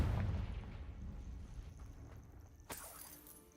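A Confringo blasting spell goes off in Hogwarts Legacy, a deep rumbling blast that decays slowly, followed by a sharp secondary crack near the end, moderately faint and without talk.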